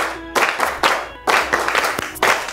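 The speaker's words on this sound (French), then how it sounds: "On applaudit pour Madame Biata." Applause breaks out in bursts for Madame Biata in a school setting, several waves of clapping that stop and restart, fairly loud and close.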